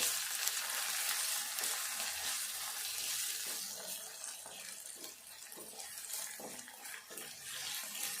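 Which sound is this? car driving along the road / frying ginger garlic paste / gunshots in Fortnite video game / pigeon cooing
frying ginger garlic paste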